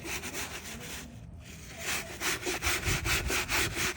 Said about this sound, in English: I take the little bit stronger, heavier brush. Gonna scrub it here. Gonna scrub it on the bottom.